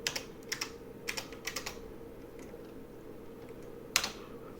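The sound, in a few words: typing on an IBM 5150 computer keyboard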